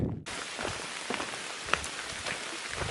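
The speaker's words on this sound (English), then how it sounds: "Too bad it's raining." Steady rain falls on a hiking trail in the Grayson Highlands along the Appalachian Trail, a dense, even hiss with scattered close drops pattering on nearby surfaces, continuous and fairly loud, with no voices.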